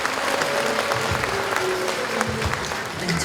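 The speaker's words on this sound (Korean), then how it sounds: "네, 박수 부탁드립니다" Audience applause at a Confucian leaders' award ceremony in Korea, a steady wash of clapping from many hands that runs without a break at fairly close range.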